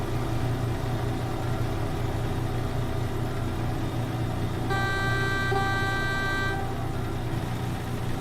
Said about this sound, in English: you just can't go through a tunnel without honking your horn